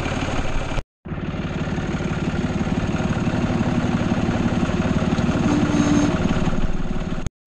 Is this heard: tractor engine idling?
yes